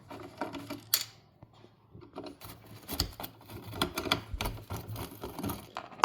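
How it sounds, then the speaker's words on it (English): A screwdriver backs screws out of a Whirlpool oven door, making sparse, quiet clicks and small metallic scrapes at an uneven pace, close by. "Let me just unscrew these."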